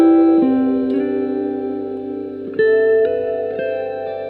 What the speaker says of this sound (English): Got this reverb thing that has this thing called shimmer.